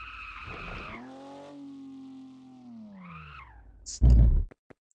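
In the video game Car For Sale Simulator, a car engine revs and shifts in rising and falling tones, then a short, loud skid or crash burst near the end; no talking.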